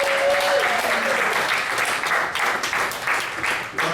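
Loud, dense applause and cheering from a comedy club audience welcoming a stand-up comedian to the stage, sustained for the whole stretch with a few voices mixed into the crowd.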